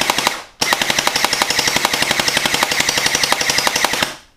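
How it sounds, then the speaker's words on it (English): A gel ball blaster fires a long rapid burst at a tree outdoors, its sharp shots ticking off in a fast, steady full-auto rhythm after a single short opening burst and a brief pause, loud and close with no talk. "sometimes I shoot the tree just for fun"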